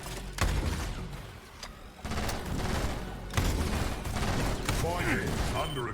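Automated turrets fire in the video game SquadBlast, loud rapid bursts of shots separated by brief gaps, with mechanical clatter and a voice talking beneath the barrage.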